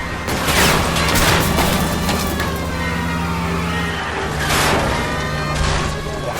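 Gunfire crackles through a shootout in the video game L.A. Noire: dense, loud bursts of shots over a continuous rumble of vehicle engines, with no pause throughout.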